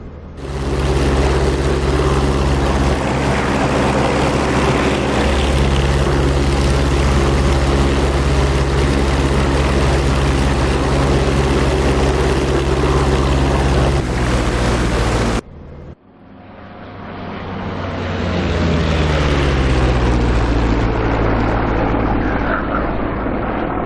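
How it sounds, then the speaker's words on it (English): Propeller aircraft engine in a DCS flight simulator game, droning loud and steady on a low pass and landing approach, then cutting abruptly and swelling back with a changing pitch as the engine note shifts. "we're going to come in for a bit of a low pass here and come in for a landing."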